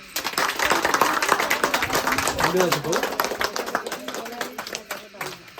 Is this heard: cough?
no